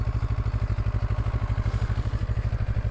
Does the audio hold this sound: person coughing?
no